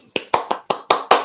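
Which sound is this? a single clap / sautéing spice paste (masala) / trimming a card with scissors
a single clap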